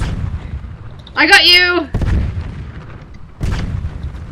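Tank cannon shots in the online tank game Tanki: booming blasts with a bright, whining tonal burst in the middle, one following another, while a player talks excitedly over the game sounds.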